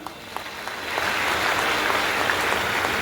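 Crowd applause swelling up from a quieter start into a steady, dense clapping that continues to the end.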